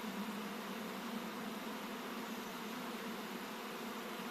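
A dense, steady buzzing hum of many honeybees flying around the hive fills the air continuously, faint and even with no breaks.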